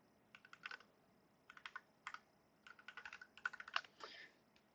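Bursts of quick, close key taps on a computer keyboard, clustered into short irregular runs separated by brief pauses, with no talking.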